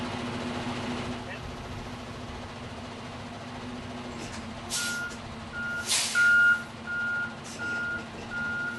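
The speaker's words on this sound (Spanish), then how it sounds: "Continúe apretando los frenos y dé marcha hacia atrás lentamente" A truck tractor backs up slowly during a standardized roadside inspection, its engine idling steadily while regular backup beeps start partway through, with a few short bursts of hissing air.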